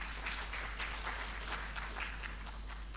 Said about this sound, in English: Please, let's give ourselves a round of applause.